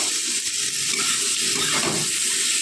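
Ground turmeric, coriander, cumin and chili powder fry with tomato in a pan for a fish-head kalia, giving a continuous, close hissing sizzle with no talk over it.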